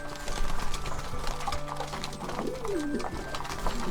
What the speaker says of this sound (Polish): To są gołębie długodystansowe